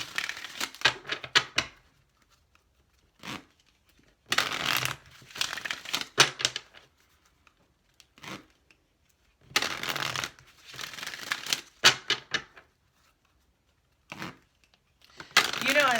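Cards from a Healing with the Angels oracle deck being drawn and handled, bursts of crisp shuffling, riffling and slapping card sounds separated by quiet gaps, close and fairly loud.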